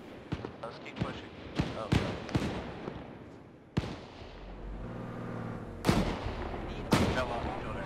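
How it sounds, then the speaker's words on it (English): Gunfire in the ARMA 3 military game: sharp, scattered shots and heavy booming reports at irregular intervals, some close and loud, others more distant, with talk in between. "What are they shooting at? The tank?"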